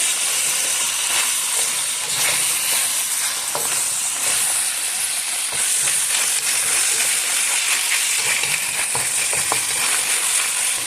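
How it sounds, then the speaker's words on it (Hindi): Chinese-style chili chicken frying in oil, a continuous dense sizzle and crackle with occasional stirring scrapes, close and steady throughout with no talk. "अच्छी तरह से ऑयल में फ्राई करना है"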